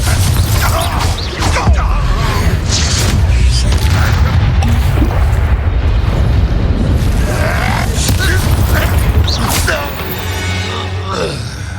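Heavy booming blasts and crashes from a fantasy video game spell explosion sound loud and continuous, with rumbling debris and a spoken voice mixed in.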